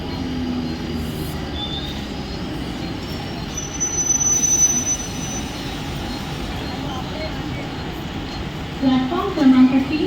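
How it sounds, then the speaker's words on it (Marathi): A Mumbai local fast train bound for Badlapur pulls into platform 3 at busy Diva junction station. It makes a steady, loud rolling rumble, and wheels squeal sharply near the end, with voices in the background. "प्लॅटफॉर्म क्रमांक 3 पर आई हुई लोकल 5:34 की बदलापुर जाने वाली तेज लोकल है।"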